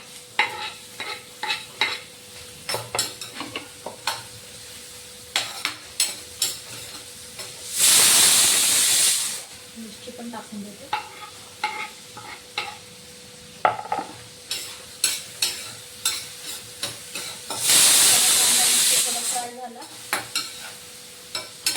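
Onion and green chili fry in a hot pan with steady sizzling, broken by repeated sharp scrapes and clinks of a spoon stirring and two loud hissing bursts of steam, with no talking.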